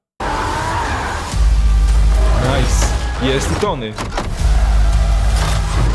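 Race cars on Sakaar skid and rev with squealing tires and roaring engines in a Marvel's What If animated trailer, loud and close, while people talk over the action.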